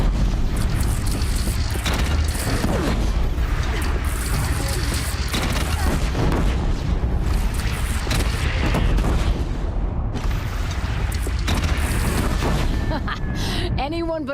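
Cannon in the video game Horizon Zero Dawn, loud booming blasts repeated through dense battle noise with rumbling impacts and chaotic combat sound, with voices shouting over it.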